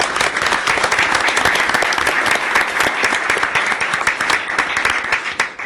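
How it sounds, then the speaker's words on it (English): Applause fills a city council meeting room, a loud, sustained burst of many hands clapping from start to finish. "to applaud on that one"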